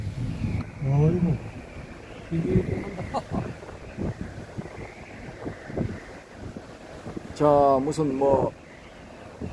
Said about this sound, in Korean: 자, 바람 소리를 한번 들어보십시오.